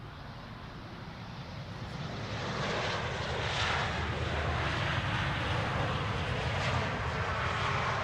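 An airliner lands at Amsterdam Schiphol Airport without reverse thrust, its engine roar steady and broad, swelling a little louder partway through and holding at moderate distance; no one speaks.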